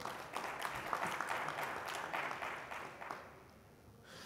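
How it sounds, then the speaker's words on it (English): A conference audience claps for a panelist on stage at a data center industry panel, a moderate wash of applause from across the hall that thins and fades out near the end. "Please a clap for Mahesh."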